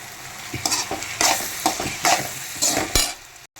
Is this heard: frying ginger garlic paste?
yes